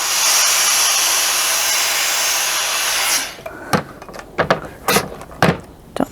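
A steam iron hisses steadily while pressing a seam on tweed cloak fabric, then cuts off, leaving a series of sharp knocks and thumps from the iron being set down and moved on the board.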